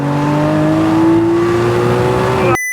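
A Lamborghini engine with a personalised, customised bespoke exhaust system revs hard and loud at close range, its pitch rising steadily for over two seconds before cutting off abruptly.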